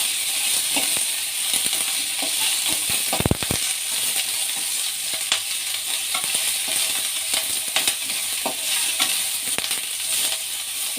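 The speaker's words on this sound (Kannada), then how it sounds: "ಎಣ್ಣೆ ಹಾಕಿ ಹುರಿದ್ಬಿಡೋಣ. ಬೆಳ್ಳುಳ್ಳಿ, ಈರುಳ್ಳಿ, ಮೆಣಸಿನಕಾಯಿ." Garlic, onion and green chilies frying in hot oil for a home-style Karnataka bassaru, a steady close-up sizzle with occasional clatter and scraping of a stirring spoon.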